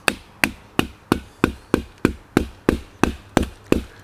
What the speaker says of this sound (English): Just hammering away, baby.